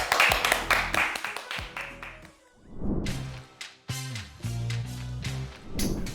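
Rhythmic group clapping from an audience at a small-business program in honor of a company CEO, a steady run of sharp claps that fades and then gives way to music.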